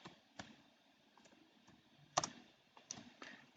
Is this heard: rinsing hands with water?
no